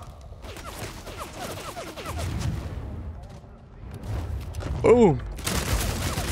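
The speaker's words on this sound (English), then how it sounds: "I'm blasting and shooting away." Gunfire from the vampire battle royale game Vampire: The Masquerade – Bloodhunt, a fast run of weapon shots in a busy mix of game sounds, with a man's short startled exclamation cutting in near the end.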